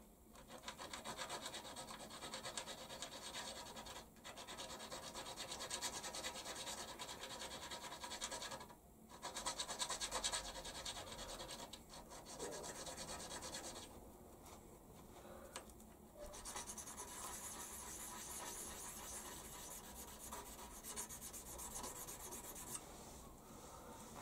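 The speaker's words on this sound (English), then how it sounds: "just a little bit of honing" Steady scraping rub of an oil stone honing a steel tooling plate for a milling machine, continuous and close, with brief pauses between strokes.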